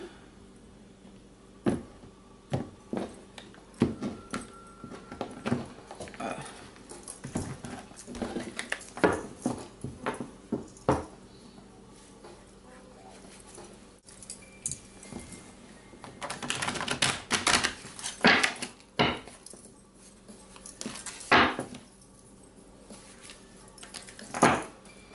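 Tarot cards shuffled by hand in a quiet room, giving repeated soft riffling and tapping bursts spread across the clip that grow busier and louder toward the end, with no talking.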